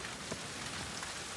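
Rain pours in the video game The Last of Us Part II, a steady, moderately loud wash of drops hitting surfaces with occasional brief louder splashes, no voices.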